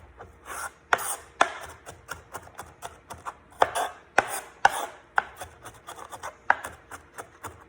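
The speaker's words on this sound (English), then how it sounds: "I would continue to cut and to cross chop until the pieces were very" A knife cross-chops food into a fine mince on a cutting board, giving a loose rhythm of sharp, close thuds, some quick doubles, with soft scraping between strikes and no talking.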